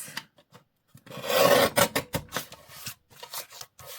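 Paper edge being trimmed for a craft project, close, dry scraping and cutting strokes in an uneven series with a sustained rasp partway through.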